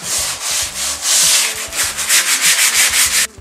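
Sandpaper is worked by hand over a surface in a home DIY workshop, making loud, close, rhythmic back-and-forth scrubbing strokes that run continuously before stopping abruptly.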